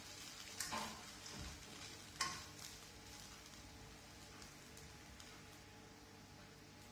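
Rice being stirred into a coconut rice mixture in a pan gives soft scraping and sizzling, with a couple of sharper clinks of the spoon early on over a steady low frying hiss.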